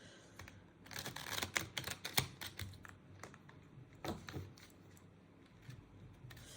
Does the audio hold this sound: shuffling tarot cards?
yes